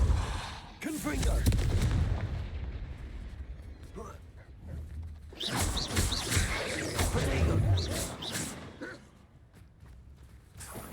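Confringo blasting spell going off in the Hogwarts Legacy video game, a series of loud booming explosive bursts with crackling impacts, sounding in two main clusters separated by a quieter stretch, with voices talking over parts of the action.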